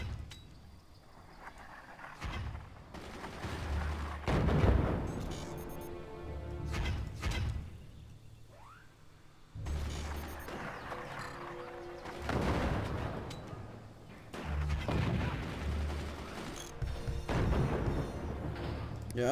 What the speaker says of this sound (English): I don't know if the mortars are working out anymore.